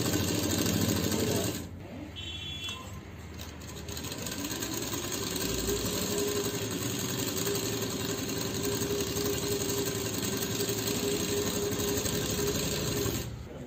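Sewing machine stitching the lining of a lehenga, a steady mechanical whir running continuously after a short pause near the start, close and moderately loud.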